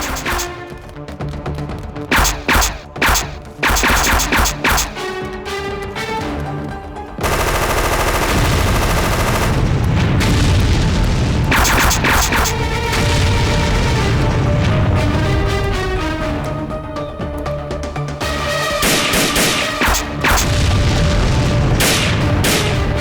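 Rapid gunfire and explosive booms in a Hindi-dubbed comedy movie scene, with bursts of shots at first giving way to a sustained, dense barrage layered with music and impacts.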